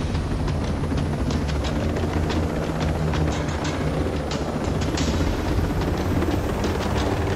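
A helicopter in the video game Ghost Recon Breakpoint drones continuously with a rapid rotor chop and dense mechanical noise, steady and loud with no voices.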